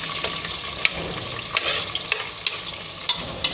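Onions and green chillies frying in hot oil, a close, steady crackling sizzle broken by sharp clicks and scrapes as a spoon stirs the pan.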